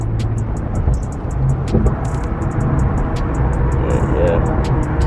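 Twin-turbo Infiniti Q50 with a muffler delete accelerating on a late-night drive, a steady loud engine drone and road noise filling the cabin while someone talks over it throughout.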